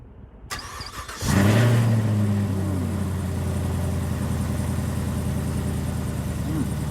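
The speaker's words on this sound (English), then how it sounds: "Cold start test." A 2023 Camaro ZL1 with a 650-horsepower supercharged V8 cold-starts with a quick crank and loud flare, then settles into a deep, steady, rumbling idle close by.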